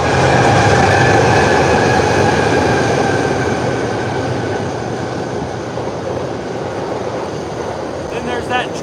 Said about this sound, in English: Then there's that train, sorry about that.